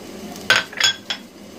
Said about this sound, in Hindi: अब मैं इसमें ऐड करूँगी सब्ज़ियाँ जो कि मैंने पहले से फ्राई करके रखी हुई हैं।